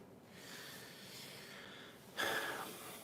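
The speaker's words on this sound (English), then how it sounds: "there's a dog snoring in the room" A dog's slow, raspy snoring breaths come from close by in a room, with a sharper snort-like inhale near the end.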